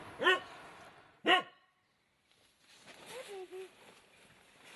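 A tied-up, abandoned dog in a Japanese nuclear radiation zone barks twice in sharp single yelps, fairly close, followed by quiet and then a faint whine or whimper.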